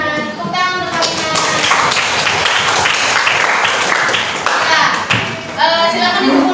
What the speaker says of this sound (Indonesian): Tepuk tangan untuk Farina